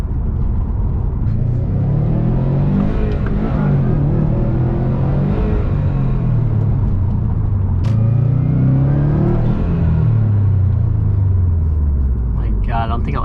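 A 2019 Subaru WRX STI Type RA exhaust rumbles from inside the moving car, rising and falling through repeated revs and gear changes, steady and fairly loud throughout.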